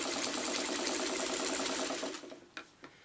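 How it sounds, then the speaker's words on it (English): A sewing machine stitching fabric pieces of an ice cream cone together, a fast steady close whirring rattle for about two seconds that slows and stops, followed by a couple of soft clicks. "I kind of sewed right over mine"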